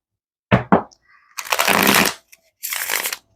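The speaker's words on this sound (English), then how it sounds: "Give it a good shuffle." Tarot cards being shuffled close up in a few separate bursts: two quick riffles, then a longer continuous shuffle, and a final shorter one.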